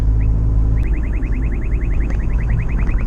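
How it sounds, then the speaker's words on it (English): Inside a moving car, a new radar detector sounds a rapid run of short, repeating electronic chirps that begin after a lone beep and continue over the low road and engine rumble, fairly close and clear. "New little radar detector already saving me."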